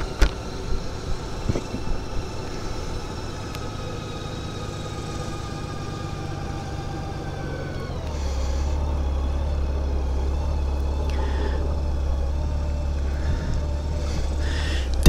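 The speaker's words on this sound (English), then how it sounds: "Going for a ride on the Goldwing today." A Honda Goldwing motorcycle engine hums on a ride. A moderate drone holds steady, then deepens and grows louder partway through as the bike pulls away, with faint wind and road noise.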